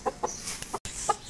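Short, soft clucks from a young rooster, a few separate calls with brief pauses, fairly close against quiet background noise.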